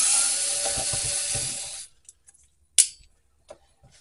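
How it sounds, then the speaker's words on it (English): A T10 Torx screwdriver backs a screw out of the middle of an original Xbox during teardown: a rasping, ratchet-like scrape for about two seconds, then a few sparse, close clicks and one sharper tick. "We're going to be switching over now to our size T10 Torx head. We're going to get this one screw that holds right here in the middle out."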